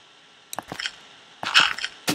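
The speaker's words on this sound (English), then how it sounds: "That is the sound of me placing dirt." Dirt blocks being placed in a block-building video game: a few short, crunchy, gritty thuds spaced irregularly, fairly close and moderately loud, with no talk.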